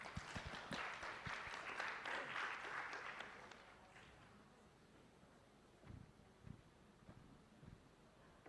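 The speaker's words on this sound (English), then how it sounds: "Please give a round of applause." Audience applause at a medical summit on severe asthma: a burst of clapping from a seated crowd that swells, then thins and fades out, leaving a few scattered claps and faint room noise.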